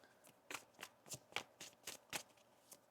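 A deck of tarot cards being shuffled in soft, separate riffles: about eight quick papery bursts spaced at a steady rhythm, close and fairly quiet, with no talking.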